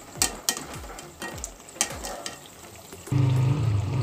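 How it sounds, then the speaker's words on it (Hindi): Chicken spring rolls frying in oil toward golden brown, a bubbling sizzle under repeated knocks and scrapes of a utensil, then a louder steady hiss of oil near the end, close up and without speech. "अब इन्हें हम गोल्डन ब्राउन फ्राई करेंगे"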